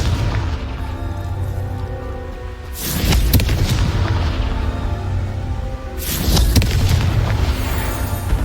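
The Confringo fire spell in the Hogwarts Legacy video game erupts in two deep, rumbling blasts a few seconds apart over a steady background wash, with no speech.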